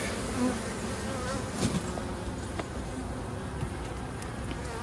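Honey bees from a strong, opened hive buzz in a dense continuous drone close by, with scattered louder passes of individual bees and faint handling noises, with no talk.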